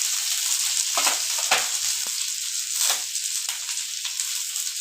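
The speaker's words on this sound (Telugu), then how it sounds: "వెల్లుల్లి వీటిని దోరగా వేయించుకుందాం." Cumin, curry leaves, dried red chillies, onion and garlic frying in a spoon of oil in a pan, a close, steady crackling sizzle with a few sharper spits and stirring scrapes.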